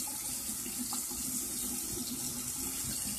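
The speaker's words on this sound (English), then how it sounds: "And then you wash your hands." Water runs steadily from a bathroom tap over hands being washed at a sink, a continuous close hiss with no talk.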